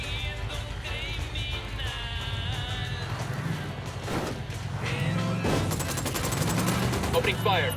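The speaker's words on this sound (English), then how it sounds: "Opening fire." Ghost Recon gunfire: a sustained fusillade of automatic shots over a continuous battle din, growing louder toward the end, with game voices calling out over the shooting.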